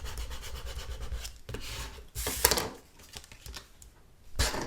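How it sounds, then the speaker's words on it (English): Vinyl rubbed firmly from the back with a burnishing tool for a papercraft card project, giving close, scratchy rubbing strokes in uneven bursts with a few louder scrapes. "I'm just going to turn this over and just burnish it from the back."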